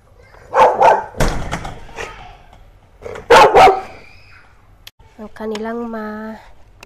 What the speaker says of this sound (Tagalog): Andiyan na naman yung aso nilang maingay.